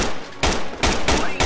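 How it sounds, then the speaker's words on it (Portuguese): Gunfire in Project Reality, a military shooter game set in the Falklands War: several loud, sharp bursts of shots in quick succession over about a second and a half, close and dense, with no voices. "Tô atirando nele."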